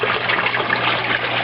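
Water trickles steadily into the standing drain pipe of an aquaponics fish tank, a continuous close, even gurgling flow with no voices.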